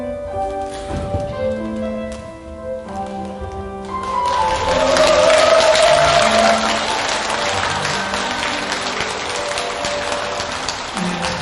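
An audience at a Buddhist dharma service breaks into applause partway through, following a stretch of tonal music; the clapping swells and holds steady, dense and fairly loud, to the end.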